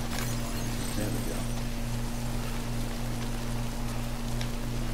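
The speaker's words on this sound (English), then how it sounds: "Now I just just need to get out of this fucking time fall rain of death." Steady timefall rain from the Death Stranding video game hisses as a dense, continuous wash with a low constant hum beneath it, without talk.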